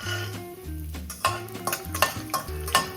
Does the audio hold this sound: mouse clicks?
no